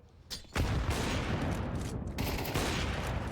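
Rapid gunfire bursts from Counter-Strike 2 in a StarLadder StarSeries esports match, a dense continuous crackle of shots lasting a few seconds with no voices over it.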